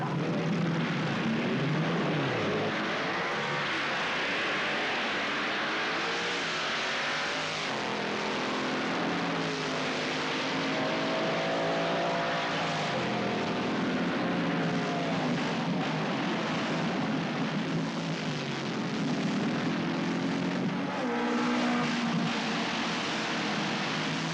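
A 1980s dragster engine roars continuously at full throttle during a drag run, a loud, dense, unbroken blast with rising and falling tones throughout.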